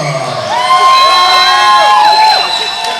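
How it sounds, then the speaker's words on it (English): A hometown crowd at a cage-fighting event in Bakersfield cheers and shouts loudly, with high whoops and yells rising over a dense roar of voices. "You can hear the hometown going crazy for our hometown fighters."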